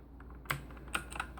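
Keystrokes on a computer keyboard bought for about 100,000 won, a few distinct clicks spaced irregularly, close and fairly quiet, with no talking.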